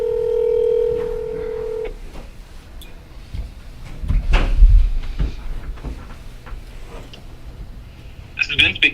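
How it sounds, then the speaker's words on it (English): A telephone call on speakerphone in a county commissioners' meeting room: a steady dial tone, then a quieter stretch of ringing and room noise, with brief sounds of the line connecting at the end. "I've got you on speakerphone with the Board of County Commissioners."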